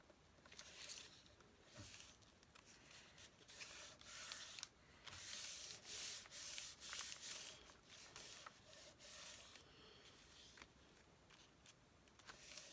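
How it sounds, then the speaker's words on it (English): Sandpaper rubs against the edge of a paper envelope to distress it, a soft, quiet scratchy rasp in uneven back-and-forth strokes, close up with no talk. "I'm going to just distress this little bottom part down there"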